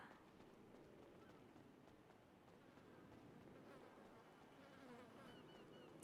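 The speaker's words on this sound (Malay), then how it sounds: "Kuat gila bunyi lalat." Flies buzz softly and steadily close by, a faint continuous drone with some quiet background rustling.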